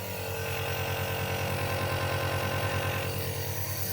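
An electric steam inhaler vaporizer runs indoors with a steady, rapid mechanical buzz and pulsing hum, close and constant throughout, with no voices over it.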